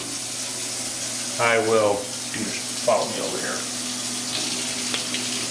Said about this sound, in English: add 2 cups warm water.